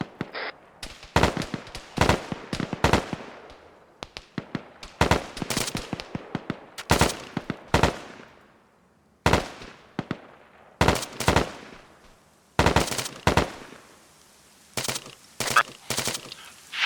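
Automatic gunfire and sharp single shots in a shooter video game on an airfield shore patrol mission, loud, close bursts repeating irregularly for about seventeen seconds with short silent gaps between volleys.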